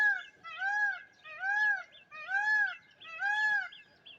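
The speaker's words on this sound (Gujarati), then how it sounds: "જો મોરલા બોલે" Peacocks call on a farm in the countryside, four loud, clear, evenly spaced wailing cries that ring close and dominate the quiet background.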